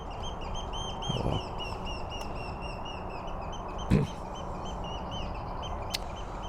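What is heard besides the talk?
widgeon duck calls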